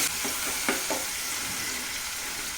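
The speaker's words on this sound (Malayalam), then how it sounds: "ഉള്ളി ഒരുമാതിരി വഴന്ന് കിട്ടിയിട്ടുണ്ട്" Onions sautéing in a pan for okra pachadi, a dense, steady sizzle with a few faint stirring scrapes near the start, close and continuous with no talk.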